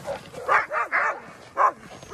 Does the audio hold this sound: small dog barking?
yes